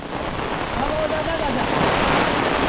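Heavy monsoon rain pouring onto Konkan rice paddies during transplanting, a dense continuous hiss close to the microphone, with a faint voice briefly beneath it.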